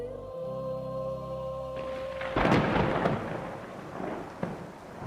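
Storm sound effect of a loud thunder crack and rolling rumble with rain, rising out of fading sustained music tones and then continuing as a grumbling roar.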